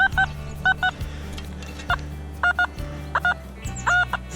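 While someone is digging coins at an old abandoned house, a metal detector gives short, repeated beeping signal tones in irregular bursts over a low steady hum, fairly quiet and close, with no speech.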